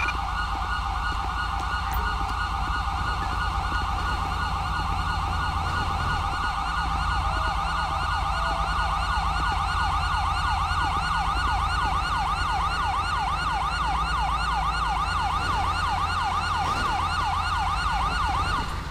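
Ambulance siren in Grand Theft Auto V, a loud continuous wailing tone sweeping up and down for the whole stretch over a low engine rumble, with no talk.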